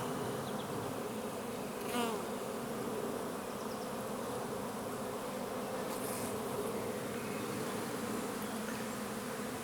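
A dense, steady buzz of many young honeybees around an open hive fills the air continuously, close and loud, with occasional individual bees droning past.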